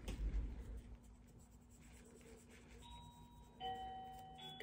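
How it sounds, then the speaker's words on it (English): A doorbell chime sounds faintly inside a home, its clear tones coming late after some soft handling noise near the mic, distant and quiet. "That would be the doorbell"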